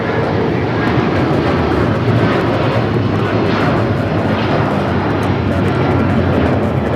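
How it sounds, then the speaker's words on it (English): A United Airlines Boeing 757-200 taking off from LAX for Newark produces a loud, continuous jet roar that stays steady and rumbling throughout, with faint talk beneath. "1855 taking off to Newark on the 757-200"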